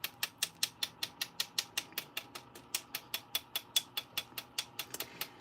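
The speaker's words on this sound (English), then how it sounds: "So I'm going to add some wink to the card by tapping on it with my bone folder here." A bone folder taps repeatedly on a greeting card, a steady run of about twenty-five crisp, evenly spaced clicks, close and alone without talk.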